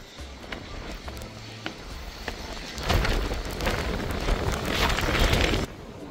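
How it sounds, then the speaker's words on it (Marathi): Heavy rain pours down at Scheveningen Beach in the Netherlands, a light patter that swells abruptly into a loud, dense roar of falling water before cutting back near the end. "पाऊस चालू झाला जोरात।"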